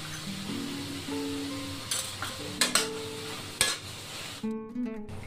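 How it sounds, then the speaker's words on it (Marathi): Vegetables for a homemade chapati pizza are sautéed and stirred in a pan, giving a soft steady sizzle with a few sharp utensil scrapes and clinks and a steady musical tone underneath. "आता या भाज्या आपण थोडे शिजवून घेणार आहे. जास्त नाही शिजवायच्या, थोडे परतून घेऊन 2-3 मिनिटं."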